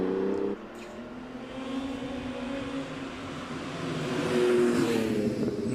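A Ferrari with a 3-litre Colombo V12 climbs the Prescott hill, its smooth high engine note rising and swelling from a distance as it accelerates through a bend, without any talking.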